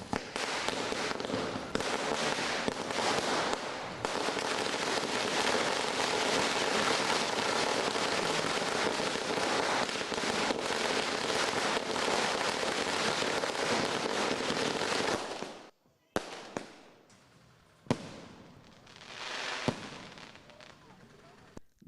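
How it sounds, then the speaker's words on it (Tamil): Dense, rapid crackling of many firecrackers bursting nonstop during Deepavali celebrations in Chennai, followed by a few separate louder bangs and pops toward the end. "மக்கள் பட்டாசுகளை வெடித்தும் உற்சாகத்தில் திளைத்து வருகிறார்கள்."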